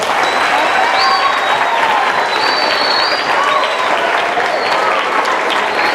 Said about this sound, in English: So I'd like you to start off by giving a large round of applause to Ms. Centeno.